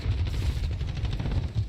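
Rapid gunfire from a Call of Duty match, dense bursts of machine-gun style shots running continuously and loud with no pauses.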